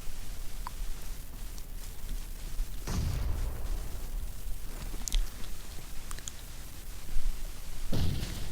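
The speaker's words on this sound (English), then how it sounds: "Wallace with a nade on Evil" Grenade blasts in a multiplayer shooter match, a couple of low booming explosions over a constant bed of game noise and scattered gunfire pops.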